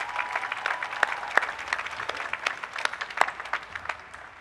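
A university graduation audience at the UVA final exercises claps for the outgoing law school leader, with steady crowd applause and a few sharper individual claps standing out, somewhat distant and moderately loud.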